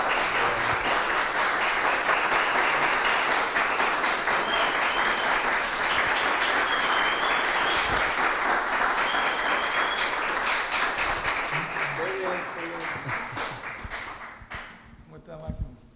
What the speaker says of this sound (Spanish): Vamos a recibir, señores, con un fuerte aplauso a nuestro invitado de esta noche, Cherito Jiménez.